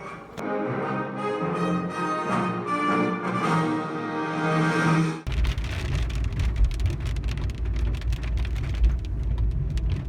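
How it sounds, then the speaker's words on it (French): Heavy rain pours down in a loud, steady, dense hiss that takes over halfway through, after a tonal, music-like passage. "Vous le voyez et vous l'entendez, il pleut beaucoup."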